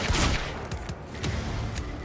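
Handgun fire in the action game Quantum Break, a rapid run of loud, close shots that blur into a dense volley over a short stretch, with no talking.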